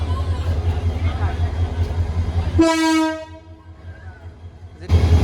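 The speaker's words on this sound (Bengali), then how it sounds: "তো এই মুহূর্তে আমরা ময়মনসিং জংশন স্টেশন ছেড়ে যাচ্ছি" The Agnibina Express departs Mymensingh Junction station with a loud, close train horn blast lasting under a second over a steady low engine rumble, which fades briefly before the rumble returns; voices talk around it.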